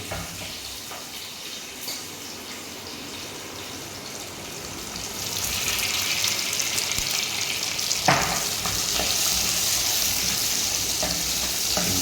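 Small shallots fry in a pan for Kerala ulli theeyal curry, a soft sizzle that grows into a steady, louder frying hiss about halfway through, with an occasional stir.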